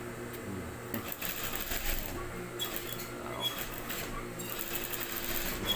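A sewing machine runs in a practice stitching session, giving a fast mechanical whir with clicking bursts that start and stop. A voice is faintly audible underneath.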